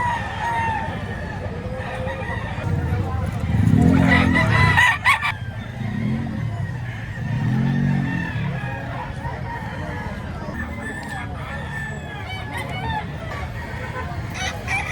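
Roosters crow repeatedly among other chickens at a Saturday chicken market in Lipa, Batangas, with bursts of calls rising over a busy background of people talking.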